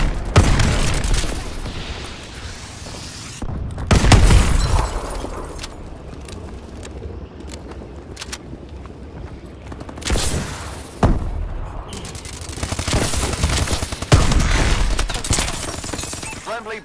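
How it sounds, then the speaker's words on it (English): Friendly bombing run in Call of Duty: Advanced Warfare, with loud booming explosions and bursts of gunfire hitting in clusters over a continuous rumble of battle noise, up close and dense. "Friendly bombing run clearing the way."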